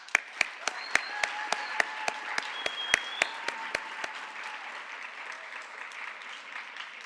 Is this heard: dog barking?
no